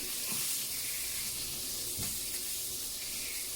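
Steady, hissing sizzle of steak fat rendering in a hot pan, close and continuous, with a couple of faint clicks.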